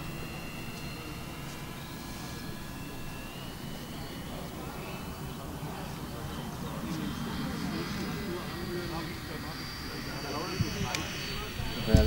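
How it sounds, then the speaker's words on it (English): RC Boeing 737 MAX 8 model jet with full flaps making a slow low pass, a steady broadband jet whine at moderate distance that builds slightly toward the end, with faint talk underneath. "I'll go full flaps and make a slow low pass"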